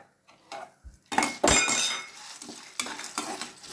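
Dried turkey berries and curry leaves are sautéed in a pan, with a sudden hiss as the leaves go in. Clinks and scrapes of a metal spoon against the pan follow in short bursts, and nobody speaks.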